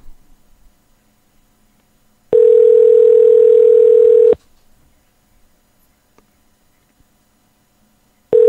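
A steady telephone dial tone sounds loud and alone for about two seconds while a call is being placed, then cuts off abruptly and briefly returns at the very end.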